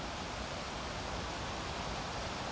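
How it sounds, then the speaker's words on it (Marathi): The Dhuandhar waterfall on the Narmada roars as a steady, dense rush of falling water, constant and unbroken, with no voices. "धुवांधारचा जलप्रपात"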